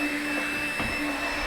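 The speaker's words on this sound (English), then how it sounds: "just take a shop vac or something and vacuum out any metal shavings" A shop vac roars steadily up close as it sucks metal shavings out of a wall sleeve for an air conditioner, a continuous loud motor whine with a faint clatter partway through.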